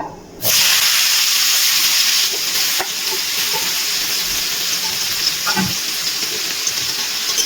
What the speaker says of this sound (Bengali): ফোড়নটা তেলে নাড়াচাড়া করে নিয়েছি এবার দিয়ে দিচ্ছি থেতো করা চালটা